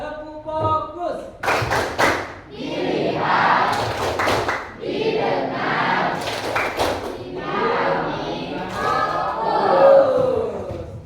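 A classroom does the 'tepuk fokus' focus clap, rhythmic group clapping in patterned bursts mixed with children chanting along, lively and close.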